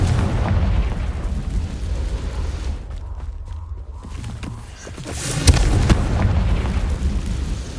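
A Confringo fire spell bursting in Hogwarts Legacy, a loud booming explosion with a rumbling tail, a sharp pop about midway, and steady game ambience underneath.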